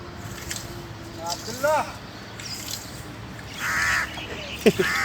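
A crow caws a couple of times, mixed with a person talking in Filipino and imitating the call, against light outdoor background noise.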